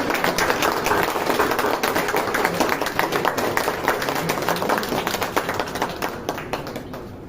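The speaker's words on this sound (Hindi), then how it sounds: "जरा तालियां से स्वागत करें रवि।" Crowd applause welcoming Ravi at a BSNL employees' Ambedkar birth anniversary celebration in Connaught Place, Delhi; dense, sustained clapping from many hands, loud and steady, tapering slightly toward the end.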